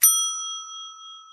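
A notification bell sound effect gives one bright, clear ding. It is struck sharply and rings on as a pure sustained tone that slowly fades, alone with no other sound.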